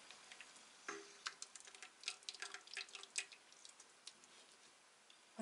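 Whey drips from freshly ladled cheese curds through a cloth-lined sieve, a faint, uneven patter of small drops and ticks against a quiet background, with no voices.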